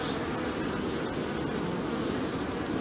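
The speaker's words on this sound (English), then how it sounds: "Look, the amount of bees going in there." Honey bees buzz in a steady, dense hum at a busy hive entrance, a continuous close drone with a noisy outdoor wash underneath and no talking.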